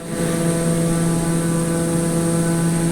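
A propeller airplane engine in Microsoft Flight Simulator 2020 drones in a constant, loud tone with a steady hum and a high whine layered over broad rushing noise, unbroken throughout.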